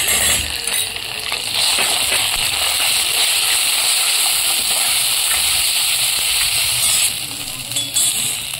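Ginger-garlic paste and grated coconut go into a hot pan of onions fried to a reddish brown, giving a loud, steady sizzle that lasts throughout with a few brief clinks near the end.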